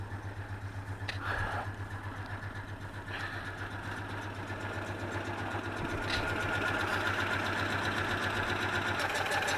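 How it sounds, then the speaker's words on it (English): Citroën 2CV flat-twin engine idling steadily, a quiet, even mechanical chatter with a low putter that grows slightly louder and stays constant throughout, no voices. "Right, so that's the engine."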